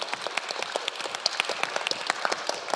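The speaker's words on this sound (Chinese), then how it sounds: "把掌声献给我们的反方辩手" An audience applauds the debaters at a debate competition, a dense, even patter of many hands clapping at once, steady and moderately close, with no voices over it.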